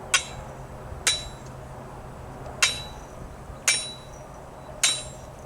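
Five sharp metallic hammer strikes ring out at uneven intervals over a faint background hum, with no talking.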